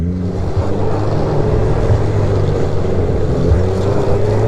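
A Sidewinder hot rod snowmobile engine accelerates, a loud, steady close-up roar with rising tones and no talking.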